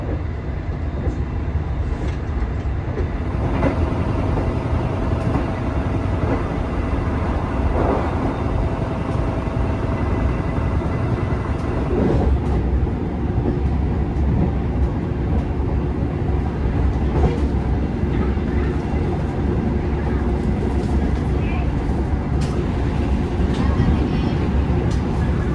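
The KA Brantas, an old 56-year-old executive passenger train in Indonesia, rumbles steadily along the rails heard from inside the carriage, with continuous broadband roar and occasional clicks and clatter.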